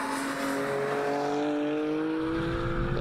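BMW M4 with the M Performance parts and Competition package, its engine droning steadily at speed with a rising harmonic tone as it pulls, heard from inside the car, continuous and fairly loud with no talk.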